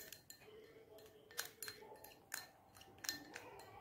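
Ingredients for a homemade hair removal pack with a little milk being stirred in a small bowl, sharp clinks and scrapes of a spoon against the bowl in an irregular rhythm, quiet and close.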